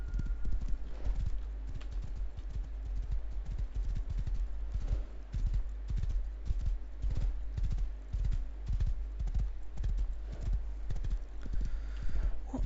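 Horse hooves clip-clop in a steady, continuous rhythm throughout a video game scene, close and clear over a low background drone, with no talking.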